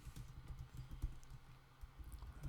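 Soft, quick keystrokes on a computer keyboard tap out an irregular typing rhythm, close by and quiet, with no talking.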